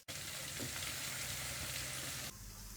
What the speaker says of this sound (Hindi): लहसुन अदरक के पेस्ट को हमने 1 मिनट फ्राई कर लिया है।